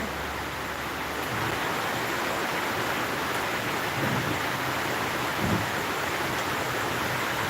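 Steady, dense rain hiss fills the whole stretch, with a couple of faint low thunder rumbles partway through and no voices.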